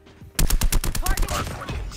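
Rapid automatic EM2 rifle fire from the Call of Duty Mobile video game, a loud burst of closely spaced shots lasting over a second with a faint voice beneath.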